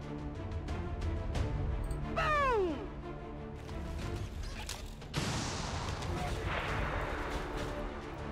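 In XCOM 2, a rocket launches and bursts amid game combat: heavy booming impacts, a falling whistle-like sweep, then a loud crashing explosion with scattering debris near the middle of the clip.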